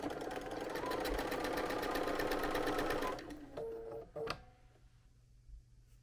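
A sewing machine stitches pieced quilt fabric along a quarter-inch seam line, a steady fast mechanical whir for about three seconds, then slowing to a few scattered clicks and stops, close and alone.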